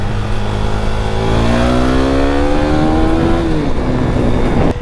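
A KTM Duke 390 motorcycle engine revs hard and climbs steadily in pitch for a few seconds, then drops off sharply. The sound is loud and close, with no talking.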